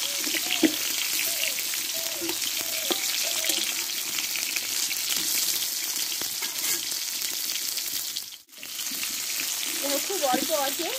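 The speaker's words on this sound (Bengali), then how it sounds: "একটু টাইম করে অল্প আঁচে পটলটা একটু ভালো করে এবার কষিয়ে নেব ধীরে ধীরে।" Pointed gourd (potol) fries slowly in a pan over low heat, a steady soft sizzle with faint stirring clicks that runs continuously and briefly drops out near the end.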